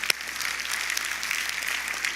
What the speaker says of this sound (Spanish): un aplauso al Señor, que Él se lo merece